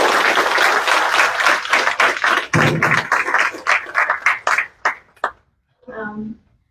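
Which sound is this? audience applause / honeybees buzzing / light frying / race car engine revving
audience applause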